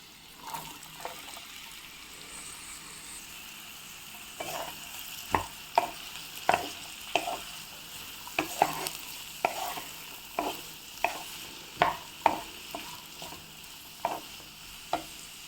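Sliced onions and green chillies frying in a pan on medium flame for a spicy egg curry, a soft steady sizzle broken by sharp rhythmic taps and scrapes of a stirring spoon.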